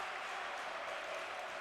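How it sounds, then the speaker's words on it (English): A crowd at a volleyball final applauds a point with dense, even clapping that stays steady and fairly distant across the whole short stretch. "Everybody claps their hands for this play."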